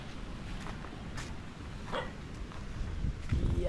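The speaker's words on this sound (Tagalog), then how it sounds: "May aso pa." A dog barks a few times at a distance by a shallow riverside crossing, faint short yelps over steady outdoor background noise.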